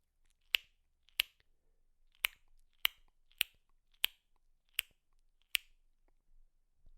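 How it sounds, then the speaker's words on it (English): Eight sharp, crisp palatal tongue clicks made just behind the upper teeth, evenly spaced in a steady rhythm for echolocation, close up against near silence. "The palatal click is created just behind your upper teeth, and it sounds something like this"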